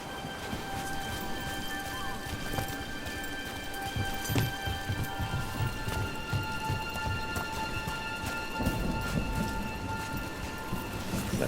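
Steady rain pours down in the Dragon Age: The Veilguard video game, with thunder rumbling low under the hiss. A constant wash of drops runs throughout and no one speaks.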